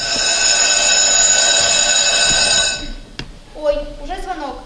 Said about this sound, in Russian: Ой, уже звонок.